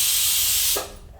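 A pressure cooker whistling as it vents steam while cooking ragi mudda, a loud broad hiss that holds steady and then cuts off abruptly, leaving a faint residual hiss.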